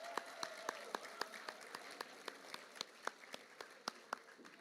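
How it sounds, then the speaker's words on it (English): Sparse, rhythmic clapping at a school athletic awards ceremony, a small group applauding with distinct individual claps spaced steadily, fairly faint and distant. "let's give him a big round of applause as well"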